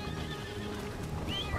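A horse whinnies with clip-clop hoof sounds in a western video game, a continuous layered stretch of game audio with a high neigh rising near the end and no speech.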